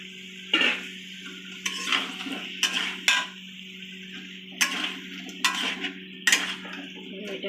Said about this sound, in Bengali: এটা একটু নাড়াচাড়া করে নেবো 2-3 মিনিটের জন্য।